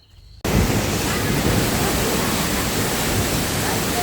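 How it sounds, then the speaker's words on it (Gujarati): A windstorm roars through a village after a brief quiet start, as a loud, steady broadband rush of wind buffets the microphone for the rest of the clip. "હાંજનું જે વાવાઝોડું આવ્યું હતું ને તેની નાખું"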